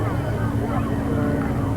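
Aircraft LF363 at the 1992 Humberside air show produces a loud, constant engine drone with no breaks, while someone talks over it close by.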